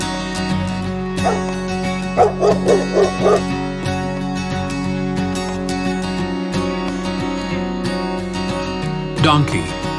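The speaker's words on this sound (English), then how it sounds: "Dog." A dog gives a quick run of four or five short barks early on, then one more bark near the end, over steady background music.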